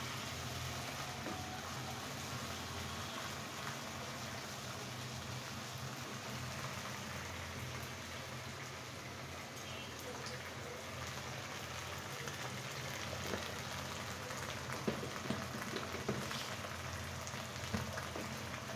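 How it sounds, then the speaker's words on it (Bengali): Chalta and potato fry in a pan for a small-fish dish, giving a steady, faint, rain-like sizzle that runs unbroken throughout. "আমি এটাকে অনেক সুন্দর করে একটু ফ্রাই করে নেব"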